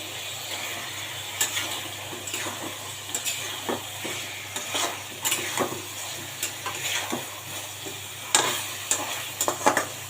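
Hilsa fish hits cooked-down masala in a pan, and a soft steady sizzle follows with frequent scrapes and stirring clatters from a utensil. Nobody speaks.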